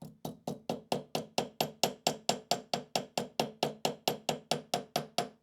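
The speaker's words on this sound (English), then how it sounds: "Let me just hammer it flat." A hammer strikes annealed sheet metal to flatten it, about twenty evenly spaced sharp blows in a steady rhythm, close and alone with no talk.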